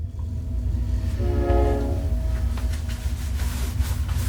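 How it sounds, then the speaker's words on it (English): A train rumbles past a backyard nearby with a low, continuous roar, and a horn sounds briefly in the middle. "that was a train running through my backyard"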